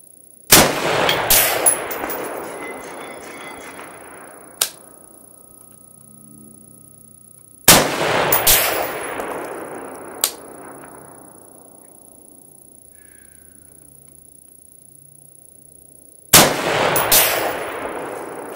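Three loud rifle shots at an outdoor long-range shooting range, each a sharp crack followed by a long rolling echo across open ground, spaced several seconds apart, with faint distant impact pings after the first two.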